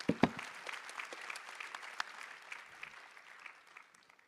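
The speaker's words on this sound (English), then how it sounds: "please give him a round of applause" Applause from a conference audience for a panelist at a semiconductor industry roundtable, a brisk burst of clapping that starts strong and gradually thins and fades over a few seconds.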